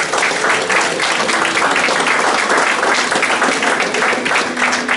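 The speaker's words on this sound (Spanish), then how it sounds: "Denle un aplauso fuerte a Dios." A church congregation claps loudly and continuously during a worship service, a thick, even roar of hands with faint crowd murmur underneath.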